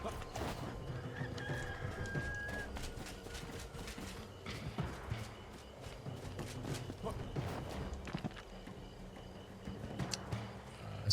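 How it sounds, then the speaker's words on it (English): A rooster crows at daybreak in the survival game Enshrouded, a fairly faint call set among clattering footsteps and game noise, with a voice talking over parts of it. "the rooster."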